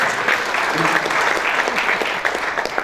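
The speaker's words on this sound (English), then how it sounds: "Give this gentleman a round of applause right here." Audience applause at a CIO summit, dense continuous clapping from a crowd throughout, fairly loud and close.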